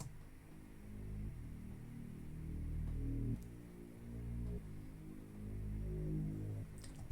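A deep synth bass plays steady sustained root notes, changing pitch every second or two, with a low droning tone and no voices.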